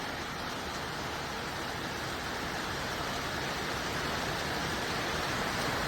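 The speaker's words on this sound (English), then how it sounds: "it is raining a lot outside" Heavy rain pours steadily outside, a dense, even hiss that stays constant and fairly loud throughout with no talking.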